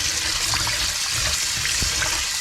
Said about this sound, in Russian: Мы ее промываем от крови.